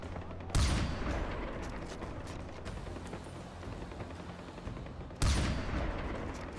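Gunfire in Far Cry 4 cracks out in two loud bursts of rapid shots, each followed by a lingering, decaying rumble and background battle noise between them.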